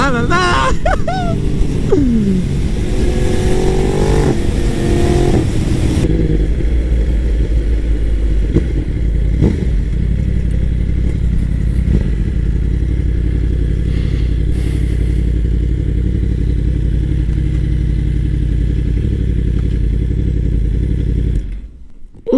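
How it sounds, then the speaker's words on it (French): Yamaha R1M superbike at full throttle, a loud, close engine roar with rapid quickshifter upshifts breaking the pitch, then a steady droning run before cutting off near the end. "Les passages au shifter les gars, c'est vraiment, c'est un truc de fou."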